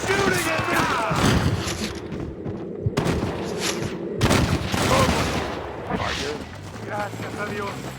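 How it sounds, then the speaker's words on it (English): Gunfire in the Red Dead Redemption video game: rapid, overlapping shots crack in dense bursts with brief lulls, loud and close, mixed with shouting voices and game sounds. "Stop shooting at me!"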